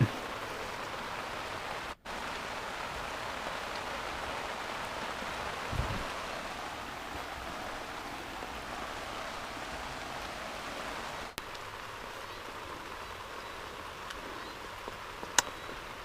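Light rain patters steadily by the Nam Phong river during a fishing outing, a faint continuous hiss broken by a few sharp clicks and a low knock, with no speech.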